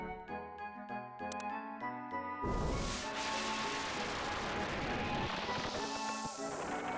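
Toilet flush in the video game Xenogears: a short chiming musical jingle gives way to a sustained rushing, gurgling water sound that fills the rest of the moment.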